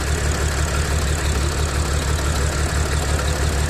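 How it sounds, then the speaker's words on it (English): An Audi V6 engine idles roughly, its steady low rumble pulsing unevenly from a misfire or air leak, close and loud with no talking. "So far the engine is very shaky"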